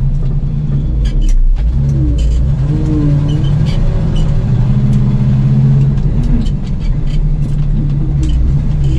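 A Chevy grain truck hauling corn pulls away and accelerates on the road, its engine giving a loud, continuous low rumble with rising and shifting tones as it picks up speed, no voices present.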